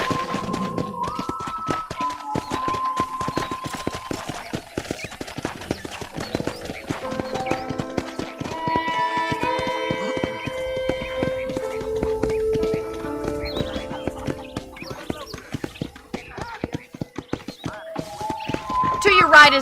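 Horse hooves clip-clop at a steady walking rhythm on a ranch in the Red Dead Redemption video game, heard under a game soundtrack and character dialogue, with a brief whinny.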